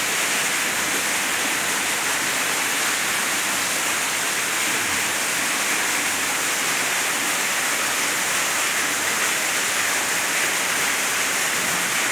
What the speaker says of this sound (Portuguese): vamos ouvir o barulho da cachoeira lá no fundo.